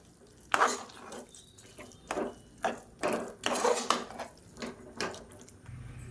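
A spoon stirs pongal in a pot after ghee and oil are added, giving scraping, clinking strokes at an irregular pace, moderately close and free of talk.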